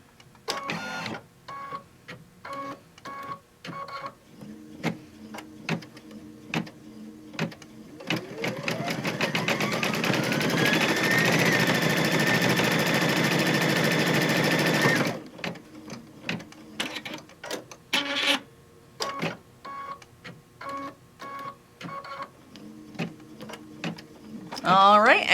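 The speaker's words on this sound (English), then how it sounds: "it's going to go and do the rays going around." An embroidery machine stitches sun rays around a satin-stitch ring on a hooped mug rug, giving rapid mechanical bursts of stitching with short pauses, then a long steady run in the middle of the clip.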